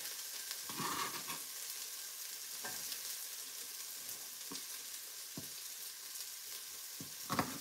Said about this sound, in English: So it smells good in here already because onions and celery, it's all brewing.